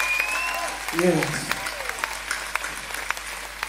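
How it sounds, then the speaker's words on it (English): Applause from a funk concert audience in Kawasaki rises and fades under stage talk, with scattered claps and crowd noise continuing behind a spoken voice. "Let's give y'all a nice round of applause"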